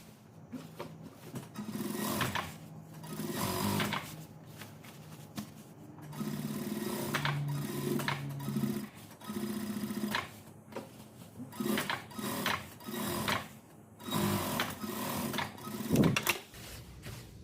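A sewing machine stitches a topstitch along a windbreaker jacket seam, running in uneven rattling bursts of rapid needle strokes with short pauses, close and fairly steady across the whole stretch, with no talking.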